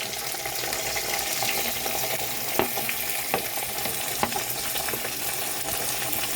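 Onions and tomatoes sizzle in a pan for Purani Dilli-style chicken changezi, a steady close fry with a few sharp stirring knocks from a spoon against the pan, no voices.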